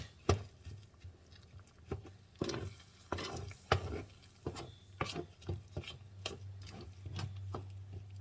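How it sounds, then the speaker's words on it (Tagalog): Purple yam jam, ube halaya with organic brown sugar, is stirred in a pan: a spoon taps and scrapes the pan in uneven, clicking strokes, moderately close, with no talk. "And then you have to stir."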